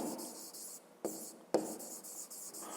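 A pen scratches steadily across paper while a maths answer is written out by hand for a fifth-grade exercise, close and quiet, broken by a couple of sharp taps as the tip lifts and lands, with no voices.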